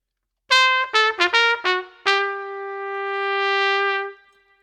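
A trumpet plays a short jazz phrase in early swing style: four quick detached notes, then a fifth, then a long sustained lower note that swells slightly before fading, clear and solo with light room echo.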